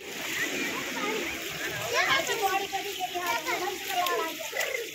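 Water splashing and sloshing as people bathe in the river at Haridwar, a steady busy wash of splashes throughout with voices talking over it.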